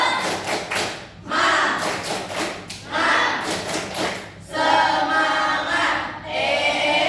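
A classroom of primary school pupils performs a rhythmic clapping chant as an icebreaker, with bursts of hand claps and thumps alternating with shouted group voices, close and lively.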